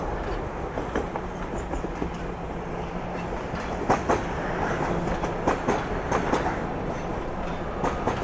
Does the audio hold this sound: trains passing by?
yes